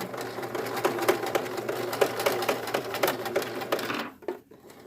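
Sewing machine basting swimsuit fabric, a fast rhythmic mechanical clatter of needle strokes running steadily for about four seconds before stopping abruptly.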